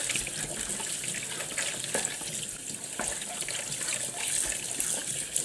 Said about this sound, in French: moi j'ai une petite brosse comme ça pour laver, donc ça nettoie bien